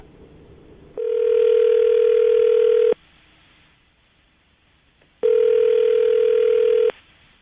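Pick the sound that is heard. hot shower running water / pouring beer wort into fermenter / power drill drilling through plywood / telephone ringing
telephone ringing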